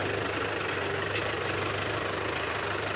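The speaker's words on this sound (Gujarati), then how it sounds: "તો આપણા ઘઉંમાં ચાલુ થઈ ગયું છે કટર" A harvester cutter works a wheat field, its engine a steady, somewhat distant droning hum with faint knocking, unbroken throughout.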